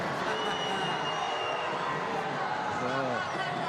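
Crowd noise fills a judo arena at a Grand Slam event in Baku, a steady broad murmur and jeering swell in the stands with commentary voices running over it.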